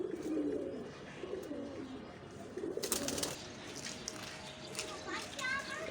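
Soft, low cooing of Dom pigeons repeats in the background while children play and chatter nearby.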